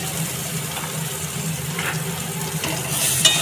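Ground radhuni and mustard paste frying in a pan with greens, a steady close sizzle with soft stirring scrapes throughout and a brief clink near the end.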